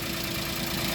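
Toyota Wigo engine idling smoothly after a misfire and power-loss fault was addressed, a steady close mechanical hum with no obvious knocking or surges.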